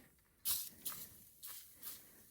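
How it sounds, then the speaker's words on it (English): Spray starch hisses from an aerosol can in four short bursts: the first is loud and sharp, and the three after it are lighter and evenly spaced, over a quiet background. "we're spraying it with some starch"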